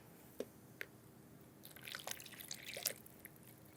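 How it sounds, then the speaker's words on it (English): Liquid poured from a measuring cup's spout into a mixing bowl, heard as a few faint drips and then a short soft splashing trickle, quiet and close. "Now I want to take my liquid and put it into my mixing bowl using the pour spout."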